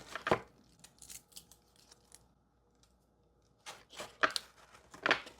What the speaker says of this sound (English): Sounds like her dress is stuffed with tissue paper.